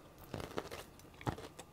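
Crispy fried chicken pieces (legs and wings) are bitten and chewed up close, with two distinct crunchy bites followed by softer crackling chews, quiet and without talk.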